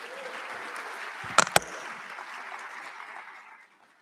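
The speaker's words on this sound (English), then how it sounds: "a big round of applause here" An audience gives a round of applause for a student association president at a university spring address, a steady broadband clatter of many hands with two sharp nearby claps, fading away toward the end.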